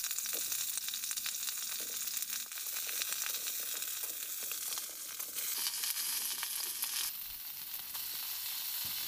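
Cauliflower florets fry over medium heat in about three teaspoons of hot oil in a kadai, giving a steady, close, continuous sizzle with crackling pops and no voices.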